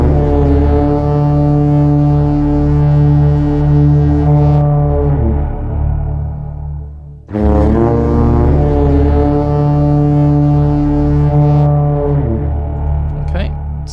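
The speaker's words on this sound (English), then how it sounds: "So these are the Ferox horns." Ferox horns from the Maleventum Pompeii sample library by Silence + Other Sounds sound two long, loud, deep brassy blasts, each holding steady for several seconds before falling away, with a short gap between them.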